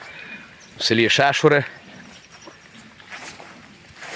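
A working horse in Sheshury, Ukraine, whinnies close by in a loud, quavering neigh lasting under a second, then only soft outdoor background noise remains.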